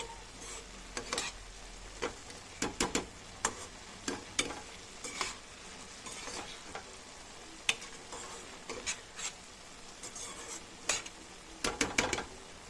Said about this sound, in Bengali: এবার খুব ভালো করে চিনির শিরার সঙ্গে বুন্দিওগুলোকে মিশিয়ে নেব এক মিনিটের মতো ফুটিয়ে নেব